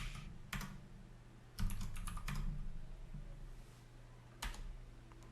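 Computer keyboard typing at close range, a few separate bursts of quick keystrokes with pauses between them and no voices.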